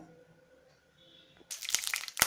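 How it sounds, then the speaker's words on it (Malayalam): Mustard seeds splutter in hot oil in a pan, starting after a quiet moment as a sudden burst of sharp, crackling pops that stays loud and close to the end. "കടുക് പൊട്ടിക്കാം."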